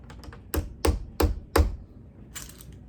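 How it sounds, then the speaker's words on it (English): Four evenly spaced, solid knocks tap a door knob latch into place, close and crisp, followed by a fainter rattle of metal parts. "I'm gonna pull it up there, see if we can't get it knocked into place a little bit."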